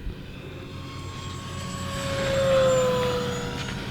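A radio-controlled scale airplane on 4S battery power makes a full-throttle pass, its electric motor whine rising in pitch and loudness as it nears, peaking, then easing off as it passes by.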